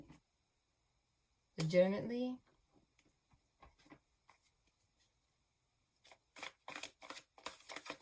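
A brief voice, then quiet, followed by repeated crisp riffling bursts of playing cards being shuffled up close.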